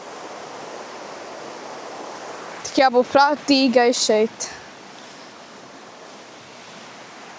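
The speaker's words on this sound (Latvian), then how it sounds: "Es gribu jums parādīt to ūdenskritumu vēl labāk. Nu, to mini ūdenskritumu." A small waterfall outdoors in nature gives a steady, broad rush of falling water, constant and moderately close throughout, with a woman's brief speech over it partway through.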